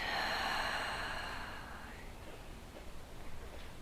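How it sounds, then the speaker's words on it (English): A long, breathy exhale during calm breathwork, strongest at the start and tapering into soft, quieter breathing and faint rustle, close to the mic with no speech. "Big inhale in, exhale out."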